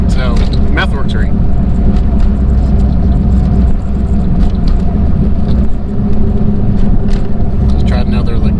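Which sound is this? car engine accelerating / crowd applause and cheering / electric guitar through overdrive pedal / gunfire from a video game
car engine accelerating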